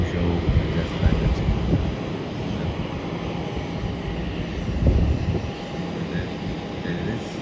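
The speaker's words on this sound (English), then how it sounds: "Flight from Guangzhou just landed." A passenger flight from Guangzhou landing at Melbourne airport, heard as a broad, distant jet rumble mixed with wind buffeting the microphone, steady with a slight swell near the end.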